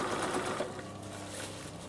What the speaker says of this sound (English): then sew the last little piece